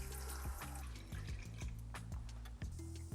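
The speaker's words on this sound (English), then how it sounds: "next, add your white wine" White wine is poured into a pan of flour-thickened cream sauce, a brief liquid splashing and trickling against a steady tonal background.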